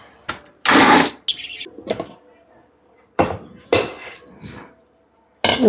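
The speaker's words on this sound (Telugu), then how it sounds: "కొంచెము మిక్సీకి వేసుకుందాము." An Indian mixer grinder runs in short, loud pulsed bursts with pauses between them, grinding a soaked mixture with its soaking water for a Mysore bonda chutney.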